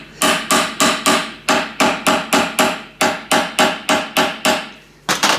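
Ball-peen hammer striking a small shop-made aluminium rivet, the ball end working around its edge: a steady run of about thirteen sharp, evenly spaced metallic taps, close and loud, with a brief pause before a final blow.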